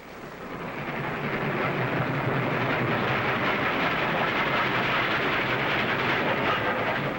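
A wartime train runs along the rails with a loud, continuous rumbling roar that swells in over the first second and then rolls on steadily.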